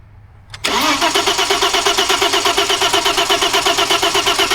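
A 2000 VW Passat with a no-start fault cranking without starting: a click as the key turns, then a steady rhythmic chug-chug of the starter turning the engine over, loud and close.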